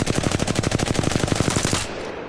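An R-301 rifle in Apex Legends fires one long, loud, fast automatic burst of about eighteen evenly spaced shots that stops abruptly, leaving a short echoing tail.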